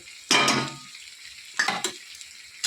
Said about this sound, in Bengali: এরপর আমি ভেজে রাখা চিংড়ি মাছটা এর মধ্যে দিয়ে দেবো